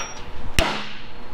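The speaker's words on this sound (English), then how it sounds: "I need a big old hammer" One sharp, loud strike of a big hammer on metal on an old Ford tow truck bed, a single ringing clang in the middle against quiet background noise.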